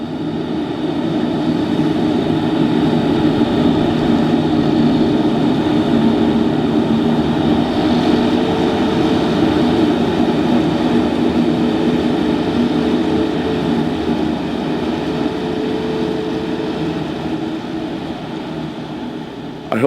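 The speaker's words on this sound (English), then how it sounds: "this corn silage operation with the M7-172 tractor chopping and the M6-111 tractor with a loader packing in the bunk" A Kubota M7-172 tractor chops corn silage in a field, its engine and forage harvester producing a loud, steady drone with a constant mechanical hum throughout, no voices heard.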